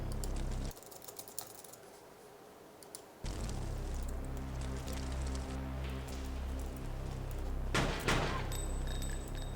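Gunfire from the action video game Fear Effect, a few sharp bursts over steady game background noise, with dense crackling clusters near the end, fairly loud and with no talking.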